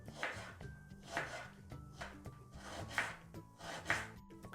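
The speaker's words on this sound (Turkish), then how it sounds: "Soğanları piyazlık doğruyorum." A knife slices onions on a cutting board in a steady rhythm, about one stroke a second, each cut landing with a crisp thud.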